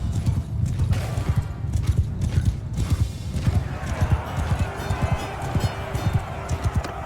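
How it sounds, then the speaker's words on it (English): Dense rumbling hoofbeats of about a hundred horses galloping together in the video game Mount and Blade II: Bannerlord, a steady bassy pounding patter that continues throughout, with faint whinnies mixed in. "The bassy rumble of 100 horses."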